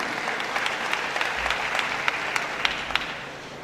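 Audience applause at a graduation ceremony for the Excellence Informatique class, honouring Maître Kittelin Janvier: steady crowd clapping with a few sharper individual claps standing out, moderately loud and sustained, with no talking over it.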